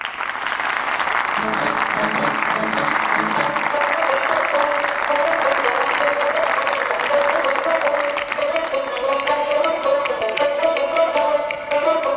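Audience applauding a young Turkish folk singer in 1982, steady loud clapping that continues as music begins underneath and grows toward the end.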